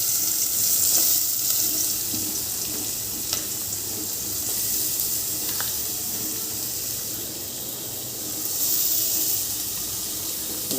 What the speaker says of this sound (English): put the onions into this pot. Give you the sound.